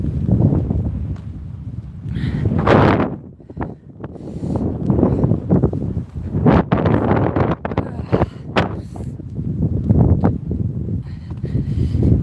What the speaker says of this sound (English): Yeah, it's still windy. Still windy.